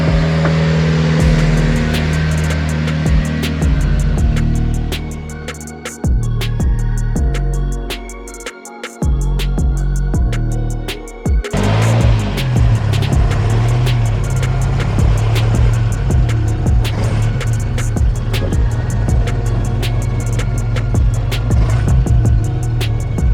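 A fully custom-built Toyota Hilux truck drives along, its engine droning and revving through gear changes with a steady road roar, loud and close, and a brief dip in the middle.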